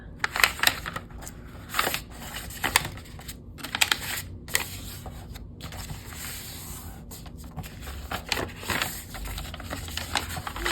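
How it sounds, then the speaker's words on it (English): A paper square being folded diagonally and creased for an origami jewel rose, giving close, crisp crinkles, rustles and sharp pressing taps scattered irregularly across the stretch, with no talking. "Just folding your square diagonally."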